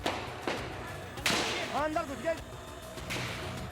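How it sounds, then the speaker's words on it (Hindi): Sharp bangs of gunfire ring out outside Parliament during the 2001 attack, several distinct reports over a few seconds, heard behind someone talking. "अभी भी आप सुन सकते हैं मेरे पीछे गोलियों की आवाज चल रही है।"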